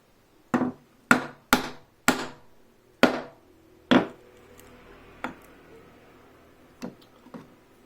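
A chisel struck with a mallet chops a mortise into wood for a bow saw frame, about six sharp close knocks at an uneven pace, then a few fainter taps trailing off.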